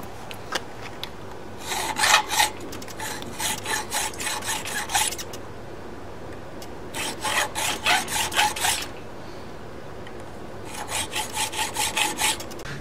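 A file rasps across the jaws of lineman pliers during sharpening, with three bursts of rhythmic back-and-forth strokes separated by quiet pauses.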